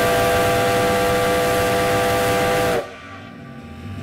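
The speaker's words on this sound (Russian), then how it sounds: "Пятитоновый свисток, звук которого был слышен за десяток километров" A loud, chord-like five-tone whistle on an SO-class steam locomotive blows steadily, then cuts off, leaving hissing steam and low rumbling.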